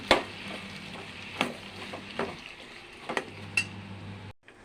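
Masala with salt, chili powder and turmeric sizzles softly in a pan, with a few sharp clinks of a spoon against metal as it is stirred over a low steady hum.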